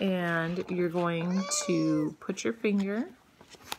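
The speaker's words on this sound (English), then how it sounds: "Oh my goodness, my cat." A domestic cat meows repeatedly, several drawn-out, tonal cries close by, mixed with and partly overlapping someone talking.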